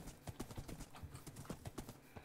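Horse hooves clip-clop in a Minecraft survival game, a quick irregular run of light hollow knocks, faint and close, continuing through the clip.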